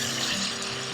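Hot oil pops and sizzles steadily in a pan while beef biryani fries, a dense, continuous crackling hiss that stays loud and close throughout.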